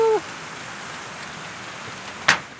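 Rain falls outdoors during a kite-flying session, heard as a steady, soft hiss throughout. A short whistling tone opens the clip and a brief sharp noise cuts in near the end.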